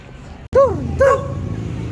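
A small dog gives two short, high yipping barks close by, then quiet room noise.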